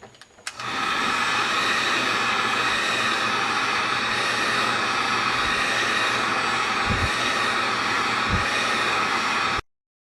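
A heat gun blows a steady, loud whooshing roar at close range as it warms a plastic car tail light, running continuously for about nine seconds before cutting off abruptly.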